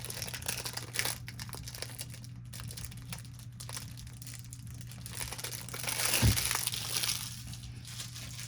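Plastic wrap crinkles softly while an old Moyu 4x4 puzzle cube is unboxed, with a steady low hum underneath and a louder, fuller crinkling burst near the end.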